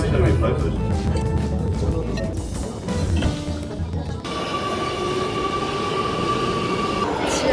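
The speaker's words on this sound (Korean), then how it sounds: "지하철 놓쳤다." A subway train pulls out of a station in Amsterdam, a steady loud rumble of wheels on rails with a sustained metallic squeal rising as it departs, close by and without speech.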